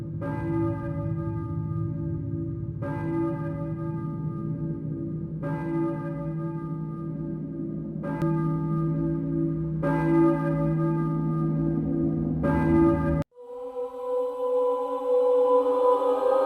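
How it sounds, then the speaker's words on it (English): A deep church bell in the Silent Hill video game tolls slowly and loudly, about six resonant strikes with long ringing decay, then cuts off abruptly into a quieter low ambient drone. "Were you ringing that bell?"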